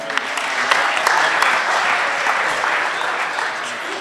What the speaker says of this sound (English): Give Archie a round of applause.